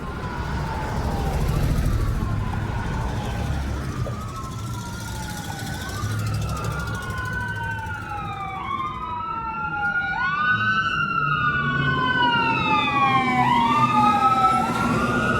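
Emergency sirens wail and rise and fall, several overlapping as vehicles approach, loud and continuous over traffic rumble.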